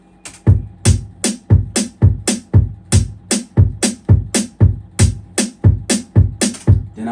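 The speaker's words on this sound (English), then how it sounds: "Then I added the kick straight up." Kick drum layered onto a hip hop beat's snare, a steady pattern of punchy, booming low thumps alternating with crisp hits, loud and continuous with no voices.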